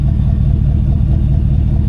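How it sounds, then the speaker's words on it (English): A car exhaust droning loud and close, a heavy low-pitched rumble pulsing at a steady pace with no clear rise in revs, outdoors in the Carolina mountains, with no talk. "get that exhaust one time"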